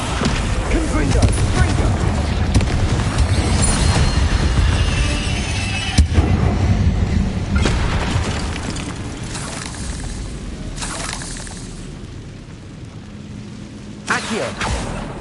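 Repeated fiery spell blasts in the Hogwarts Legacy video game, a dense run of booming explosions and crackling bursts that stay loud, then thin out toward the end with one last sharp bang, while a voice talks over them.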